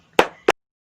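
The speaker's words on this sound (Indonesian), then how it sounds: "Kalau Bu Guru bilang siang, tepuknya sekali." A classroom of students claps in a sharp, close burst, then one more quick clap follows, and silence comes after.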